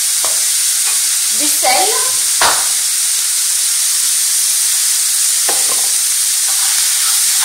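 Mushrooms sauté with garlic, Espelette pepper and black pepper in a loud, continuous sizzle and hiss, with several stirring scrapes and clatters in the pan and a brief spoken word over the cooking.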